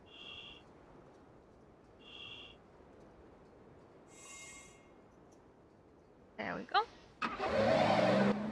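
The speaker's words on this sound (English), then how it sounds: "does the car do that on its own when you start it?" A car starts in the video game Dreamfall. Quiet electronic beeps come first, then a sudden loud burst of engine noise that settles into a steady running rumble near the end.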